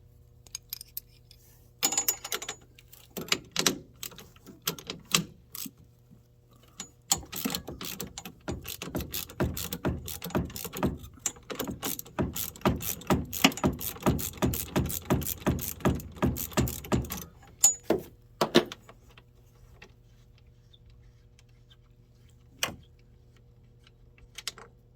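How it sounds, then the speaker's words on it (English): A 13 mm socket wrench ratchets on a bolt and nut in a garage: a few scattered clicks, then a long dense burst of rapid pawl clicking, then a couple of stray ticks. "So we just need a socket and a wrench that fit."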